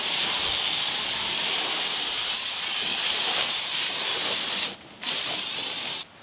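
A car-wash foam gun sprays a steady, close hiss of foam across a car's paint, pausing briefly twice near the end.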